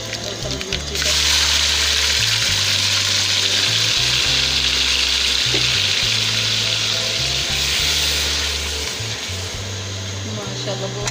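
Loud, continuous sizzling as a tomato, onion and green chili paste hits hot oil with fried garlic and ginger, a sudden burst that settles into a steady close hiss over a low hum.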